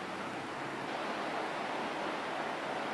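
Surf rolls onto a beach at Alaska's westernmost highway point, where the water is near freezing. It is a steady, unbroken wash of breaking waves that stays loud and even throughout, with no voices.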